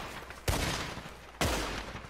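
Two sharp gunshot bursts from Red Dead Redemption 2, each a loud crack followed by a decaying rumble, spaced about a second apart and heard without talking.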